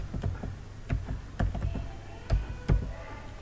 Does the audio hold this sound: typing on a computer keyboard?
yes